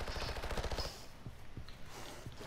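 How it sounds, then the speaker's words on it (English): Gunfire in the Cuisine Royale video game: a rapid automatic burst in the first second, followed by a few sharp, spaced single shots over a low background. "I hear the shots, but I don't see anybody."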